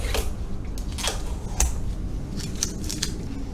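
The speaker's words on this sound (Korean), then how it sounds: "이 스티커 같은 건 바로 떼야 돼요" A sticker is peeled off a metal and plastic part of an NZXT H500 PC case. Close, dry crackling rips and short scratchy bursts come in an uneven series, with no talking.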